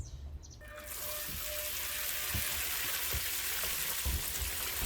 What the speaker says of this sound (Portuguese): Bom, pessoal, está o chuveiro funcionando.